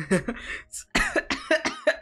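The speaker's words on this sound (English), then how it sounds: "I'm over here just coughing on nothing." Several harsh, raspy coughs burst out close up in quick succession, with short gaps between them.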